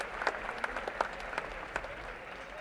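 Applause rises from the audience at the ABU Robocon India 2024 national finals for the runner-up team, scattered distinct claps over a steady roar, moderately loud.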